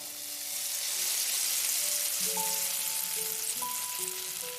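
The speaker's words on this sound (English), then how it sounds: "Melissa slid a piece of sizzling steak onto Klein's plate." Steak sizzles and fries in a pan, a steady, bright crackling hiss that swells and holds, with soft background music tones running underneath and no voices.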